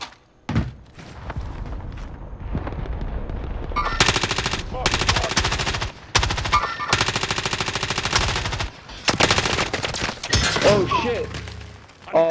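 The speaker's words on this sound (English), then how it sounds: "I'm shooting at him right now, boys." Rapid bursts of automatic gunfire from a shooter video game, loud and dense, with sustained volleys and short pauses, while players talk over the shooting.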